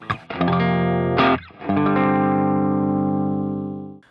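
A distorted electric guitar chord with an extra note struck, then left to ring and slowly fade over several seconds.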